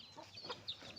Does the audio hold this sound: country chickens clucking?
yes